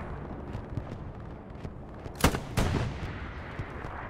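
Gunfire in the video game Hell Let Loose: two sharp, loud shots about a third of a second apart, each ringing briefly, set against a steady low rumble of battlefield ambience.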